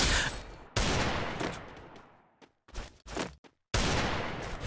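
UMP gunfire in a shooting video game: several rapid bursts of automatic shots, each cutting off abruptly with short silent gaps and brief decaying echoes between them, loud and close.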